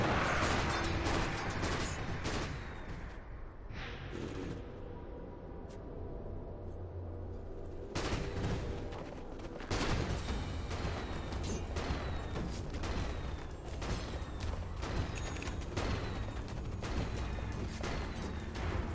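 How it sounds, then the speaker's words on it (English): Dota 2 battle din as a tower comes under attack: dense, continuous clashing, impacts and bursts of game effects, loud and busy throughout with no pause. "Radiant's bottom tower is under attack."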